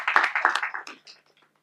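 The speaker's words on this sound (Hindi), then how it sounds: "इनके लिए एक बार जोरदार तालियां हो जाए" Applause and clapping from an audience for a singer at an event, a short burst of claps that fades out within about a second and a half.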